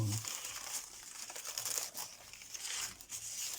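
Crepe paper crinkles and rustles continuously as it is unwrapped, with soft crackling bursts close by and a brief murmur of voice near the start.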